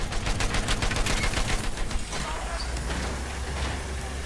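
Machine gun fire in the Battlefield 1 video game, rapid rattling bursts for the first two seconds that ease into a low rumbling drone, moderately distant and fairly quiet.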